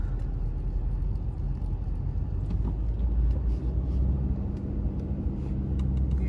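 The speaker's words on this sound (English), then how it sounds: "Lots of traffic." Heavy highway traffic heard from inside a hauling truck in Tennessee near Nashville: a continuous low rumble of engines and tires, steady and moderately loud throughout with no talking.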